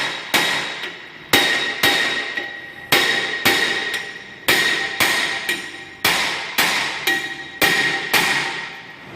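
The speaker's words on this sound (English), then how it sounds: "Never hit a rotor here unless you're replacing it. Always hit them right in here." A hammer strikes the brake rotor of a 2008 Ford Expedition during a rear brake job, landing about a dozen sharp metallic blows in an uneven rhythm, each ringing briefly before the next, with no talking.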